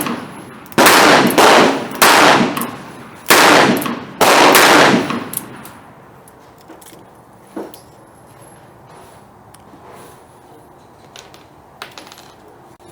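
Four loud, sharp gunshots from a Ruger LCR .22 Magnum defensive revolver ring out in quick succession near the start, followed by quieter clicks and handling noise.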